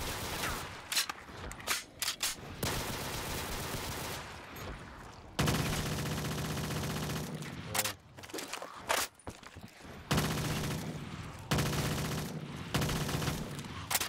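Gunfire in Black Ops 3 Custom Zombies on a Minecraft-textured tower map, loud bursts of rapid automatic fire broken by short pauses and single shots, close and punchy, with no speech.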